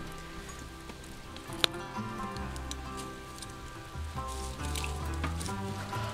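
Heavy rain drums steadily on a camping tarp at a forest campsite, a dense continuous patter with one sharp knock partway through, swelling slightly louder toward the end.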